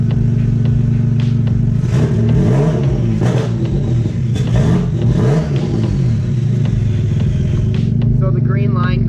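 A car's front-mounted engine revving repeatedly during tuning, loud and close, with rising and falling throttle blips over a steady idle drone and a voice talking over it.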